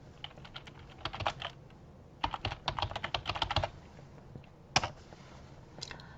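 Fast bursts of computer keyboard typing at a desk, clusters of crisp key clicks separated by short pauses, close and clear with no talking.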